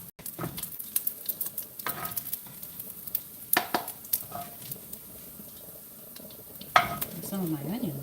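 Pancetta and onions fry in a pan with a soft sizzle, broken by the scrape and clink of stirring against the pan, close up with a faint voice in the background.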